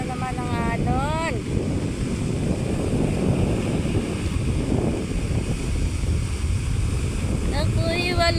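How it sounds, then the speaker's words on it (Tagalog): Strong sea waves surge and crash steadily beside a beach resort, loud and continuous under heavy wind buffeting the microphone, with a person speaking briefly at the start and end. "Lakas na naman ng alon."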